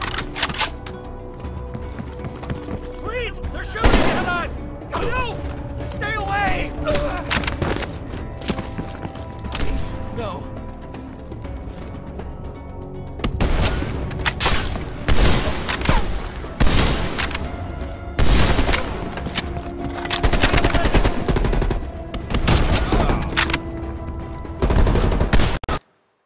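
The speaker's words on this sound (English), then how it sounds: "Please! They're shooting at us!" Gunfire in the Call of Duty: Cold War campaign: repeated sharp shots and rapid automatic bursts come in irregular volleys over about twenty-five seconds, loud and close, with mechanical clanks between them.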